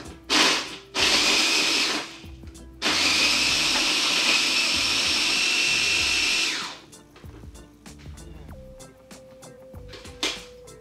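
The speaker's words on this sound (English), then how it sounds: "now that the Oreos have pulsed into a nice fine crumb, we're going to set the food processor aside" A food processor pulses Oreo cookies into fine crumbs: loud whirring bursts of a few seconds each, one brief and one long, with quieter clattering and handling noises between, close and muffled under a dish towel.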